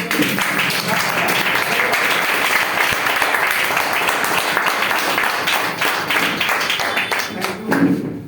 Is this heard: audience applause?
yes